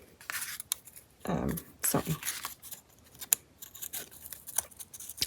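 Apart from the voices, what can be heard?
pinking shears cutting paper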